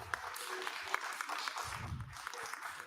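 Scattered audience applause in a city council chamber meeting, moderately loud and fairly steady for a few seconds, with a low murmur of voices underneath.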